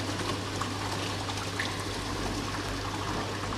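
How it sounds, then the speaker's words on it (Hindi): Water running into a tube on a hydraulic bench in a fluid mechanics lab, a steady soft trickle and pour under a constant low hum, with no talk. "यहाँ से पानी जो है वो फिलअप होना शुरू हो चुका है"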